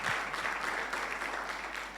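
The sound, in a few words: applause for the viewers of the broadcast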